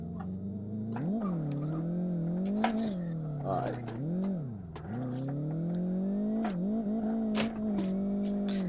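A loud, raspy Tofaş Doğan engine with an exaggerated exhaust in Live for Speed revs up and down continuously, its pitch rising and falling with throttle, with occasional sharp clicks and pops.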